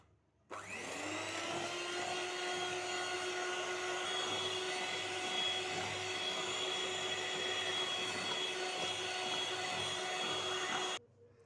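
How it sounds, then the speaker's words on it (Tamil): An electric mixer beats sugar into orange pound cake batter with a loud, steady motor whine that runs unbroken for about ten seconds and then cuts off abruptly. "இப்போ வந்து தேர்ட் பேட்ச் ஆட் பண்ணி நல்லா பீட் பண்ணி எடுத்துக்கோங்க"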